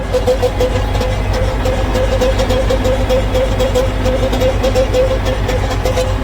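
A pump runs badly with a loud, continuous mechanical drone and a rough, uneven pulsing throb close by, without talk.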